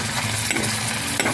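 Corned tuna and egg get stirred in a hot pan, with soft scraping and sizzling that rises in brief pulses over a steady frying hiss, close up and without speech.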